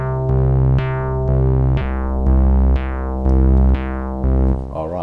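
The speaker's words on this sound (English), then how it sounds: "now let's introduce the other oscillators so you can hear this in the mix" A layered synth patch with all oscillators playing together sounds in a full mix, bright plucky chords repeating on a steady offbeat rhythm over deep sustained bass, loud and with no talking.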